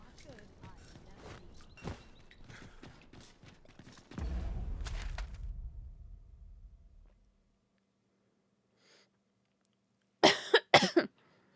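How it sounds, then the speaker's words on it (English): A few sharp, close coughs burst out near the end after a quiet gap. Earlier, a game soundtrack plays with thuds and footsteps, and a voice talks over it. "Did I cough and not even notice that I did it?"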